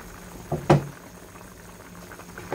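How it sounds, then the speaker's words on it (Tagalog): Beef kaldereta boiling in a pot gives a low, continuous bubbling, with a couple of sharp knocks as the lid is handled near the start. "Pag 5 minutes na, kumulo na."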